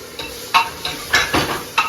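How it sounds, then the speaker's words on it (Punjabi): Spice masala being roasted in a pan with desi ghee, a series of short scraping stir strokes over a soft sizzle, close and moderately loud, with no talking. "ਹੁਣ ਆਪਾਂ ਜਿਹੜਾ ਆਪਣਾ ਮਸਾਲਾ ਹੈ ਨਾ ਇਹਨੂੰ ਵਿੱਚੇ ਭੁੰਨ ਲਾਂਗੇ"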